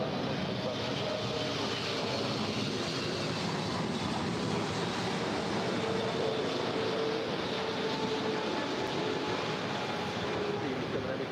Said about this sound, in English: that was Turkish Airlines Flight 9 coming in from Istanbul